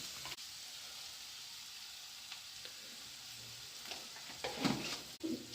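Semolina dry-frying in a pan gives a steady, soft sizzle throughout, with a few louder stirring scrapes and crackles near the end.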